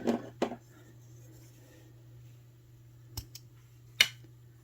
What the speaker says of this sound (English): Now I'm just going to cut off my thread.